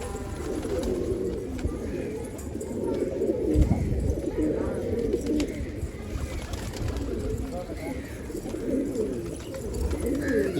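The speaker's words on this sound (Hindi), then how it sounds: "कैसा कबूतर है।" Pigeons kept by a hobby fancier coo softly and steadily close by, a low murmuring flock sound that carries through the whole stretch, with someone talking over it.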